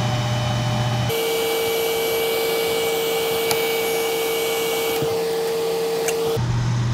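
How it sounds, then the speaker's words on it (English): A hair dryer on low heat setting glued eyes on a Shiner jerkbait fishing lure, a loud, continuous close-up whir with a steady tone, switching in pitch as it is moved, with no talk. "Normally use the hair dryer on low though."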